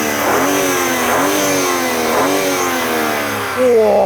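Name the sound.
BMW M3 3-litre twin-turbo straight-six engine revving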